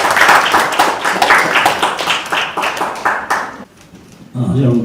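Loud, full applause from a forum audience in a National Assembly seminar room, a close wash of clapping that stops suddenly, followed after a short pause by a voice beginning to speak.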